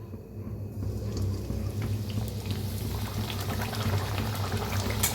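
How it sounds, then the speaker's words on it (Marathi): Bhatura dough deep-fries in hot oil, producing a dense, even bubbling hiss that holds steady and close for the whole stretch. "तळून दाखवते. आता तेल बी ठेवलेलं आहे. तेल चांगलं गरम झालेलं आहे."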